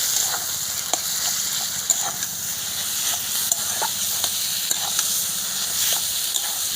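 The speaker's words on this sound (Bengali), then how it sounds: "এটা কিন্তু আমি ভালো করে কষে নেব" Taro paste with salt, turmeric and sugar sautés in a pan with a soft continuous sizzle, broken by regular sharp taps and scrapes of a spatula working the mixture, and no talking.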